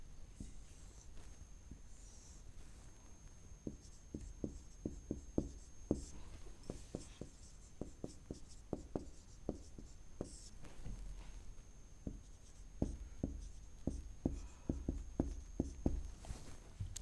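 Handwriting on a board while a table is drawn during a maths lesson: a long run of short, crisp scratching taps, some in quick clusters and some spaced apart, fairly close over a quiet room hum.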